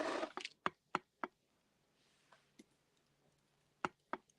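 Sparse keyboard clicks tap out in short bursts, a few quick keystrokes then pauses, faint and close in an otherwise quiet room.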